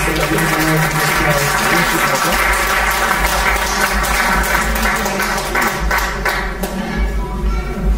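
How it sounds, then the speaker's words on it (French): A church congregation at a pastor's wake in Montréal applauds in praise of the Lord Jesus: steady, dense clapping that fills all eight seconds and mixes with sustained music or singing underneath. "Applaudissez le Seigneur Jésus."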